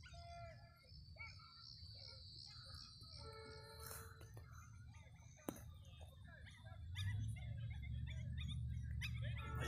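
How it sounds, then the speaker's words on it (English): A little Yorkie or Pomeranian barking in high, thin yaps at a distance, faint against an outdoor bed of insect chirring and steady background noise. "This gal over here's got a little Yorkie or Pomeranian and keeps barking at Giz"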